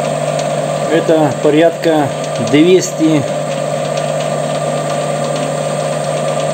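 An AliExpress parting tool cuts off stock on a lathe running at 250 rpm, making a steady mechanical hum with a rhythmic ratcheting whine early on and a brief voice speaking over it.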